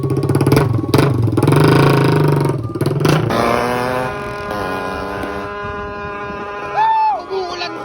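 A loud motorcycle with an aftermarket torotot-style exhaust pipe starts with a rough, close roar, then shifts into blaring, horn-like tones that bend in pitch, with voices in the background.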